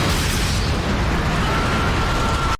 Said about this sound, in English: that is just a ludicrous explosion